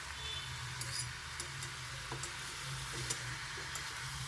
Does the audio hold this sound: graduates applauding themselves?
no